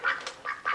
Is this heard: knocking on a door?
no